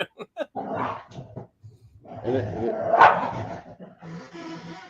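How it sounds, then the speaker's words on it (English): A small dog barks in sharp bursts and growls ferociously while playing, close and loud, with a low rumbling growl between yaps. "We have a little dog that is definitely got a little Napoleon complex to her."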